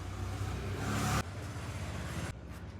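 Steady, loud road traffic with vehicles continuously passing close by, a dense engine rumble and tyre noise that swells and shifts as cars and trucks go past.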